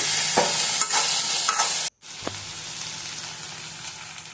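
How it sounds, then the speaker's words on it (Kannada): Onion, tomato, ginger, garlic and a little coriander fry in a pan for crab curry. The sizzle is loud and close, broken by a brief near-silence midway before the hissing and scraping resume. "ಈರುಳ್ಳಿ ಚೆನ್ನಾಗಿ ಫ್ರೈ ಆದಮೇಲೆ ಟೊಮೆಟೊ ಹಾಕಿ ಮತ್ತೆ ಫ್ರೈ ಮಾಡ್ಕೊಳ್ಳೋಣ"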